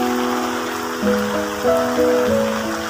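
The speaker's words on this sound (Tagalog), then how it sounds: "Malakas ang patak ng ulan. May kasamang hangin na amihan." A loud, steady wash of heavy rain with northeast monsoon wind in Antipolo City, Philippines, with a gusty roar and a faint melodic tone running over it.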